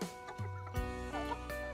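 Pradu Hang Dam chickens, a native Thai breed from Chiang Mai, clucking close by in a short run of repeated, overlapping clucks and calls.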